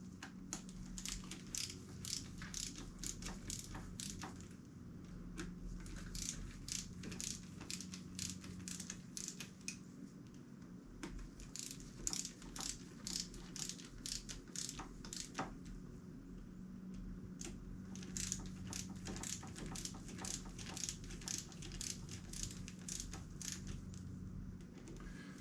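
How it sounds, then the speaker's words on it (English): A torque wrench preset to 55 inch-pounds tightens bolts in a star pattern while a used Rekluse clutch goes onto a KTM 350SX-F dirt bike. Quiet, dense ratcheting clicks run steadily throughout, faint and close, with no voices. "We're going to do this in a star pattern. Tighten them up a little as we go."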